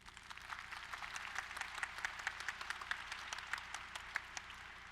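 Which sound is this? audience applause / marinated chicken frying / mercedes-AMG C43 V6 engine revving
audience applause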